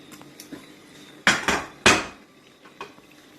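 A metal deep-frying pot is handled in a home kitchen, giving several sharp clanks and knocks, two of them loud, between softer taps and scrapes.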